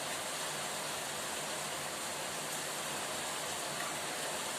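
Steady rain hisses as an even, unbroken wash of noise throughout, fairly faint and constant, with no voices present.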